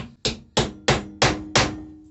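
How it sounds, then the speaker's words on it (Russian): Five evenly spaced hammer blows drive a PVA-glued wooden dowel into a hole in a workshop, each strike sharp and close with a short decaying ring, no talk. "Сейчас его забьем."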